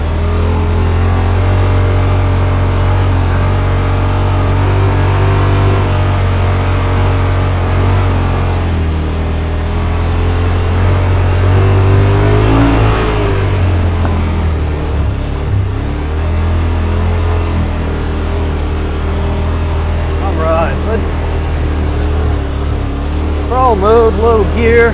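A 2021 Yamaha Wolverine RMAX2 1000 Limited Edition side-by-side drives along with a loud, steady engine drone that rises and falls as it revs, close up, while someone talks over it.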